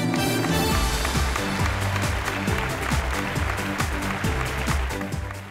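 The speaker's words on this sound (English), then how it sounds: "please put your hands together and give a big round of applause to my dear friend" At the Femina Women's Awards 2017, the audience applauds the Worldwide Media CEO with continuous, even clapping, while a rhythmic musical beat plays loudly underneath throughout.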